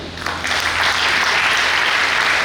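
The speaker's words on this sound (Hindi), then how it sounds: "सीताराम पटेल सर के लिए तालियां होनी चाहिए।" An audience at an education event in India bursts into loud, dense applause for a honoured guest, steady clapping filling the hall throughout.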